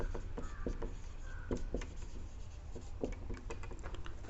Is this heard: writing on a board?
yes